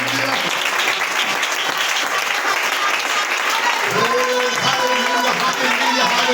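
A church congregation applauds in a steady, full wash of clapping that lasts throughout, with sustained tones of singing or music ringing over it.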